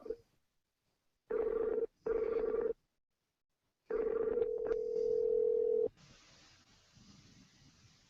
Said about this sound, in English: I'm ringing the first number now.